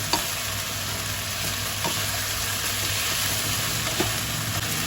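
Garlic and onion stir-frying with pork sauce give a steady close sizzle with a few faint scrapes of stirring, over a constant background hum and a high whine.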